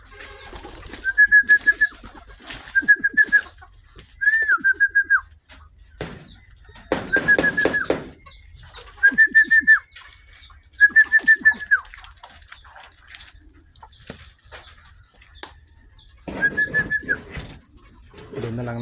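Pigeons coo repeatedly in short bursts of soft, warbling calls, spaced a second or two apart, with faint rustling between them and no talking.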